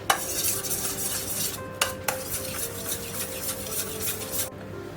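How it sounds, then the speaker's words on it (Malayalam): Sugar mixture with cornflour, coffee powder, vanilla and butter being stirred in a pan for doughnuts, a steady scraping and rubbing of a spoon against metal with two sharp clinks midway, close and alone. "ഇത് നല്ലപോലെ മിക്സായി പഞ്ചസാരയൊക്കെ ഒന്ന് നല്ലപോലെ ഉരുകി വരുന്നവരേക്കും നമുക്കിത് നല്ലപോലെ ഇളക്കി കൊടുക്കാം"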